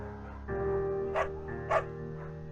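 A beagle in the video game Firewatch gives a sustained whine that turns into two short, sharp barks, close and clear over a quiet background, with no talking.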